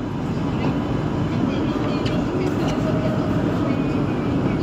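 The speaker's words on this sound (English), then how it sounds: "This is a Manhattan-bound 4 train." An R142 New York subway 4 train running, a loud continuous rumble of wheels and motors heard from inside the car, with an announcement voice faintly over the steady roar.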